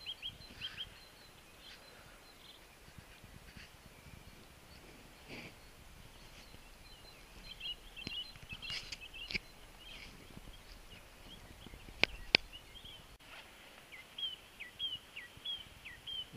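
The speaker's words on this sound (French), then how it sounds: "Le chant des oiseaux." Faint, scattered bird chirps and short calls drift over a quiet outdoor background near a stream, with sparse, widely spaced notes and occasional rustling.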